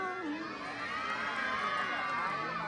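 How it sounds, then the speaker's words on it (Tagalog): Crowd at a beauty pageant in Binondo cheering, shouting and applauding, a sustained roar of many voices with overlapping whoops that holds steady throughout. "wala bang palakpakan dyan? Wala bang masigabong sigawan dyan?"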